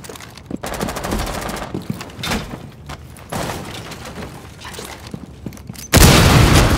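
Rapid automatic gunfire and single shots in Rainbow Six Siege on the Favela map, loud and close in repeated bursts, ending in a heavy blast of sustained fire.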